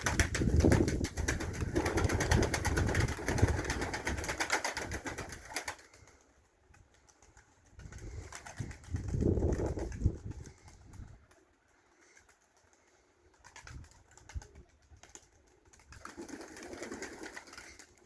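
Turkish takla fighting pigeons in training, flying and coming in to land: bursts of flapping wings and close cooing that come and go between quiet gaps.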